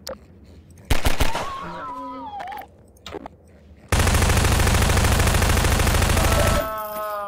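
A few scattered gunshots in the video game Half-Life 2, then a long sustained burst of automatic fire empties a magazine, loud and continuous for about three seconds before stopping.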